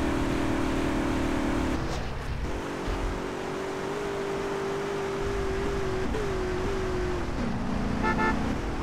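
In GTA San Andreas, a car horn sounds in long sustained blasts over road and engine rumble, fairly loud and close.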